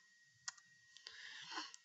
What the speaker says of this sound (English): So if I click that